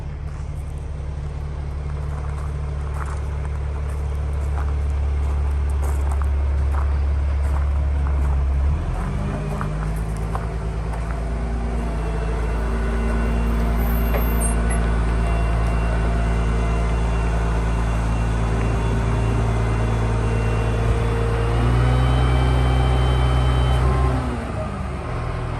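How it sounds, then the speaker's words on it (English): A heavy crane truck arrives at a house construction site, its low diesel engine droning steadily and shifting pitch as it maneuvers, with no talking over the continuous rumble. "The crane truck is here, and it's just mind-boggling."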